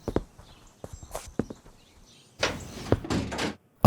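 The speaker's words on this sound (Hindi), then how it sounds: "दरवाजा बंद करो।" A door is closed indoors, with wooden clunks, a scraping slide and a few footstep-like knocks, heard close and alone.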